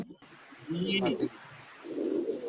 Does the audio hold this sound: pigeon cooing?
yes